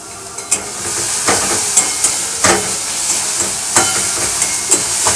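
Asafoetida tempering sizzles in hot oil for coconut chana dal, a loud, steady, close frying hiss with short bursts of stirring scrapes throughout.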